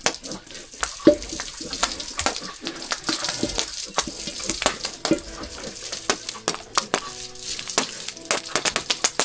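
Tap water running and splashing while Lucy gets her bath, with irregular sloshing and clatter, fairly close, a faint voice occasionally underneath.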